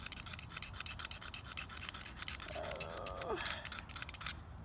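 A steel crowbar nail puller is scraped against a hand sharpener with a tungsten carbide corner, giving faint, rapid, rhythmic rasping strokes close by in a quiet room.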